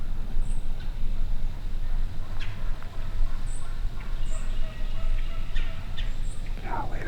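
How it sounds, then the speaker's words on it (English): Distant wild turkeys, a large flock on a ridge, gobble several times in scattered bursts over steady wind or outdoor rumble, with faint birdsong. "We got a freaking army of turkeys over here on this ridge"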